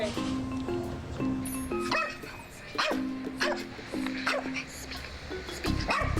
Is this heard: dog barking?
yes